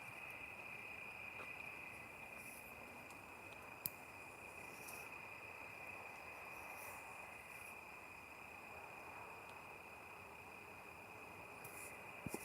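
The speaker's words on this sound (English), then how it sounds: "Oh, listen to the crickets here." Crickets chirp steadily at dusk along a park trail in a high, continuous trill, faint and distant under a soft background hum of traffic, with no voices.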